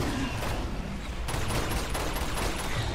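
Gunfire in the video game Uncharted 2 rattles as a dense, continuous fusillade of shots and impacts, loud and close, with no clear pauses.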